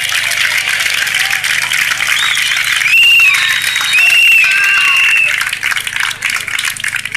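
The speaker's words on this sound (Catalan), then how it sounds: "Un aplaudiment, sisplau, del veïnat, fort, fort, aplaudiu-lo!" A crowd at the Marxa de la Dignitat march in Barcelona applauds a neighbour with loud, dense clapping mixed with cheers and a few shrill whistles.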